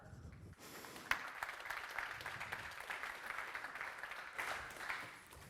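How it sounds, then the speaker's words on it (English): Conference audience applauding a speaker as he is introduced, a sustained spread of clapping over several seconds in a large room, fairly distant and soft. "Give a round of applause to CEO of Lava Network, Yair Cleper."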